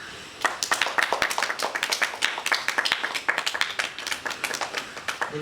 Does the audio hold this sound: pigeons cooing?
no